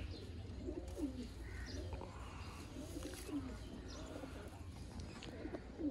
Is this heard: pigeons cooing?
yes